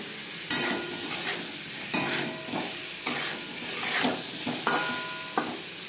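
Potatoes sizzle in a pan for egg khichuri while being stirred, with repeated scraping strokes about once a second over a steady frying hiss and no talk.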